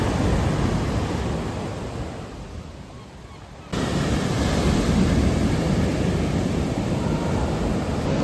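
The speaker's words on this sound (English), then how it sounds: "the waves are quite violent" Rough sea surf breaking on a Cornwall beach in cold early spring, a steady loud broadband roar that eases and softens for a few seconds before surging back strongly, with no voices.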